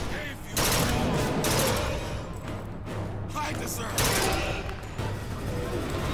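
A gun fires in a series of bursts in the video game Bioshock Infinite, dense and loud with mechanical clatter, with a voice talking over part of it.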